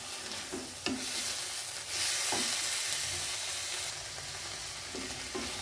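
Coriander leaves sautéed briefly in a pan for chutney make a continuous close sizzle, with stirring scrapes and a few soft knocks of the spoon against the pan.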